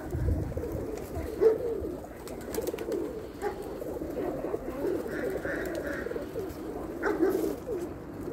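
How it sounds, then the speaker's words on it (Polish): Pigeons in a loft, just back from transport, coo steadily and softly in several overlapping voices, with occasional wing flutters and a quiet background hum. "Gołębie są po transporcie, jeszcze jeść nie dostały."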